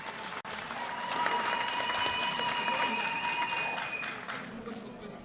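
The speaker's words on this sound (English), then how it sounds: "let's give him a round of applause" Applause breaks out for an elder at a Namibian Genocide Remembrance Day gathering, a broad crowd clapping with steady texture, while tonal sounds and a voice carry over it, tapering off near the end.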